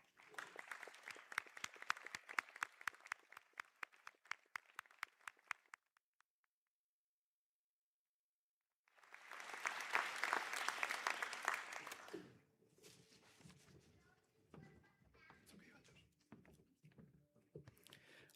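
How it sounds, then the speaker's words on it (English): Audience applause at a college conferring ceremony, a steady burst of many hands clapping that stops abruptly, then after a pause a second loud wave of clapping swells and fades into quieter hall noise and murmuring. "programs to stand for a round of applause, please"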